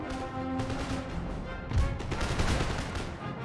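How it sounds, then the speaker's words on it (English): Line infantry loading and firing muskets in Empire: Total War, a rolling series of muffled, distant volleys and scattered pops blending into a continuous battlefield rumble. "they're loading and firing"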